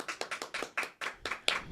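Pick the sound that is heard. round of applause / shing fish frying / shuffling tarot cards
round of applause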